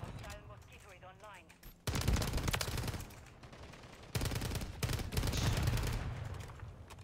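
Video game gunfire from a new gun rattles in rapid automatic bursts, loud and dense, broken by a brief pause, with game sounds and faint voices around it.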